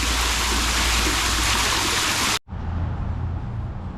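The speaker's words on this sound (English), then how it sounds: "We just found this cool waterfall across the street from the brewery." Steady broadband rush of a waterfall near Hot Springs, Arkansas, loud and continuous, briefly cutting out then resuming slightly softer with a low rumble underneath.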